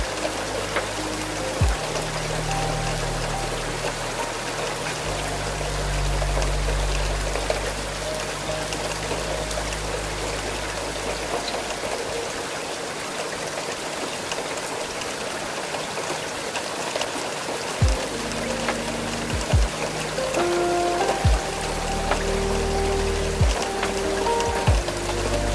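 Heavy rain pours steadily on the glass of a night train crossing the Scottish Highlands, a dense, continuous wash over a low rolling rumble with occasional deeper thuds.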